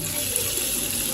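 Water gushes steadily from a tap as a brief, even rush of liquid, fairly loud and close, with no talking over it.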